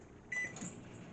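A microwave oven starting up with a bag of popcorn inside, a short beep-like onset followed by a steady low hum running quietly on its own.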